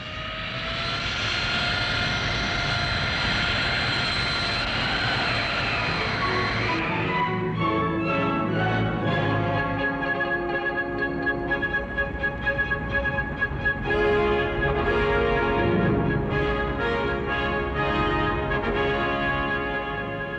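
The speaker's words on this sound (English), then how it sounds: "The strike is on, and the planes trundle out from under the trees under their own power." Hawker Siddeley Kestrel VTOL jets taxiing out from under trees in a wood, with a loud, steady jet-engine roar and whine throughout, rising tones shifting midway as the engines change pitch, heard alone without voices.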